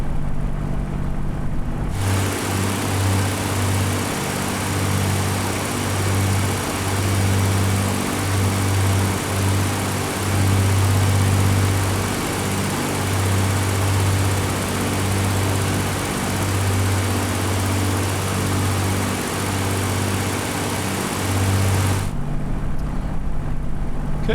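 Supermarine Spitfire in Microsoft Flight Simulator cruising over English countryside, a steady droning piston engine roar with a throbbing low rumble held evenly for the whole stretch, no voices.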